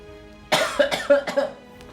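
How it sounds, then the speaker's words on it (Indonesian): A quick run of four or five close coughs in a rough, rhythmic burst, then silence. "Sorry, batuk coy"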